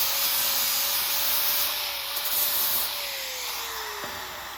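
An angle grinder cuts a bevel into the edge of a metal railing in preparation for welding, giving a steady, loud, continuous abrasive rush with a slight pitch drift and a sharp tick near the end, with no talk.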